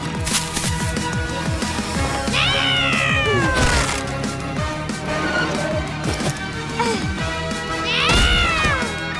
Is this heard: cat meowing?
yes